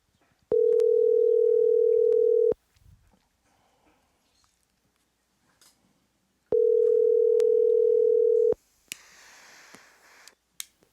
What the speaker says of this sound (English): We're going to give Trey Mack a call